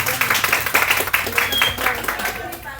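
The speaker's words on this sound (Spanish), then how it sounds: "Un aplauso a los hermanos de la cocina" Church congregation applauding the kitchen helpers during a sermon for servers, a steady roomful of clapping for a few seconds.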